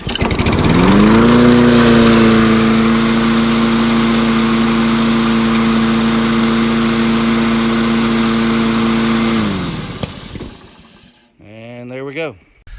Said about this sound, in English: Hopefully this will crank.